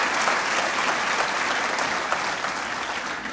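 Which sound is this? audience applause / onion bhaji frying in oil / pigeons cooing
audience applause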